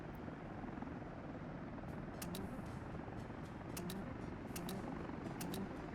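Helicopters in the city-building game Workers & Resources: Soviet Republic, a steady rotor drone with repeated sharp clicks on top and no voices.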